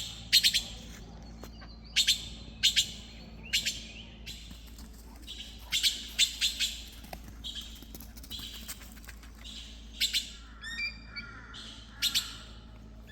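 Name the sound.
magpies calling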